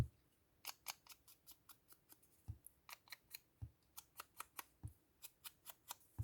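Scissors cutting paper for a junk journal page, snipping close by in a quick, fairly regular run of about two dozen crisp cuts with a few heavier clicks mixed in.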